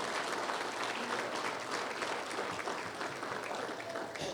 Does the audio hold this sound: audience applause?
yes